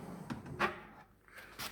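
A drawer in a shop-built table saw workbench slides and bumps shut, with a couple of soft wooden knocks close by in a quiet room.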